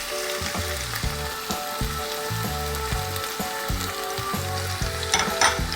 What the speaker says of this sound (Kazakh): Осылайша барлығын қуырып аламыз